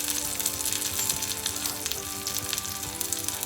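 Garlic browning in hot oil in a pan for a South Indian onion tomato chutney, giving a steady, close crackling sizzle with dense popping throughout and no talk.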